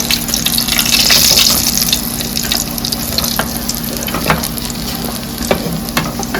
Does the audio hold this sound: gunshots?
no